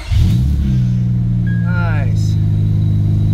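An Acura TL engine cranks and catches, then settles into a loud, steady low idle that continues throughout, with a person speaking briefly over the running engine.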